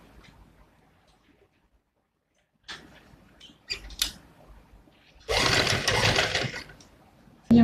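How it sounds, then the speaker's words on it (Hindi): A sewing machine stitching a trouser seam, first a few short mechanical clicks and taps, then a loud, steady run of needle whirring for about two seconds before it stops. "और यहाँ पर एक सिलाई लगा देंगे।"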